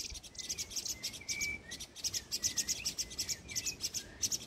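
A small bird caught by a cat chirps repeatedly in quick, thin high-pitched bursts, fairly faint and close, with no talking.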